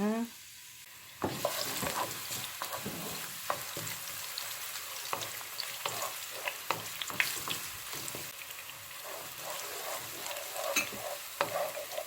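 Green onions hit a hot pan after a quiet start, bursting into a close, crackling sizzle with repeated stirring clicks and scrapes, while a crab stir-fry is being cooked.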